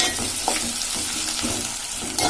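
Ginger garlic paste and spices sizzling in a pan for mutton curry, a dense, loud hiss with a few stirring scrapes running through the short stretch, no talking.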